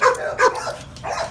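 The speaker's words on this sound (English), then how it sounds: "What a pretty dog you are." A pet dog whimpers and yips in short, close whining bursts, three quick rises and falls with no talking.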